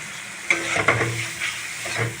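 Grated coconut is stirred into kochu shak frying in a pan, giving a close sizzle broken by a few soft scraping strokes of a spoon, with no voices.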